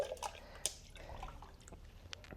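Water poured and dripping at a pottery wheel while a handmade Japanese tea cup is being shaped, heard as a few faint, close drips and trickles over a quiet studio background.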